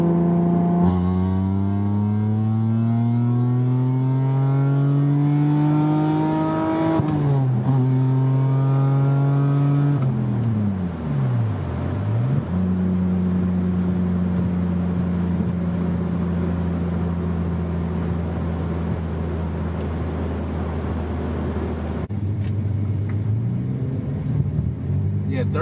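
A Hyundai Tiburon GT with a cold air intake and headers pulls hard through the gears from inside the cabin, its engine note climbing steadily, dropping at each shift and climbing again, loud and continuous.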